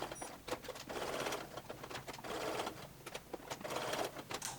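A sewing machine stitches through Velcro at a 2.5 stitch length in quick rhythmic bursts of needle chatter with short pauses between runs, close but fairly quiet.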